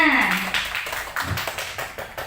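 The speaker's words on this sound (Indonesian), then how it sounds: "Tepuk tangan untuk semuanya" A group of teachers at a curriculum training session claps in a short, fairly regular series of sharp beats, heard right after a brief voice.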